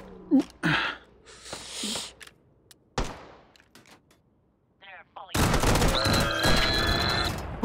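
Sniper fire in the VR game Hot Dogs, Horseshoes & Hand Grenades: a few sharp single shots with quiet gaps between them, then a sudden loud dense burst of gunfire and noise that keeps going, with a voice speaking briefly at the start.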